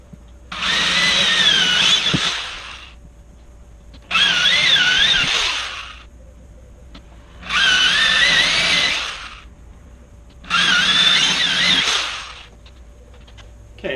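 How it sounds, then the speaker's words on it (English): A power drill whirs through wood in four separate bursts of about two seconds each, separated by short pauses, close and loud. "let's drill these 4 holes out"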